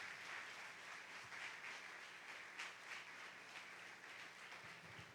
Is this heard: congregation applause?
yes